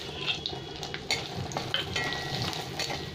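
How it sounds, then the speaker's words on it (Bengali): Whole black mustard seeds, cumin, dried red chillies, bay leaves and hing fry in hot oil for dal with a lively crackling sizzle, sharp popping spits and occasional stirring scrapes, fairly quiet and without talk. "এই মশলাটা খুব ভালো করে ভেজে নেবো একটু।"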